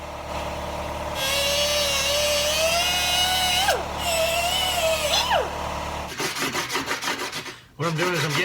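A power tool strips paint off small metal seat-bracket pieces for a quarter midget, giving a loud high-pitched grinding whine with wavering pitch, broken by short pauses, then rough scraping bursts toward the end.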